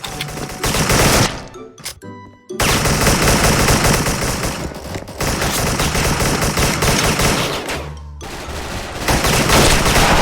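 Rapid bursts of AUG A3 assault rifle fire in the online shooter Special Force, loud and close, running almost continuously with a couple of short pauses between strings of shots.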